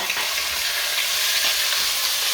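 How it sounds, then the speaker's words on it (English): Lamb pieces frying in smoking hot oil, a loud, dense, constant sizzle up close with stirring scrapes mixed in and no voices. "get the meat in there. Watch out, it will spit. Drop it in, get it all in there, and then just start stirring it."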